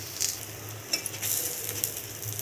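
Methi dhapata flatbread roasts in oil on a tava, a soft steady sizzle broken by light scraping and clinks of a spatula against the pan, close and without speech.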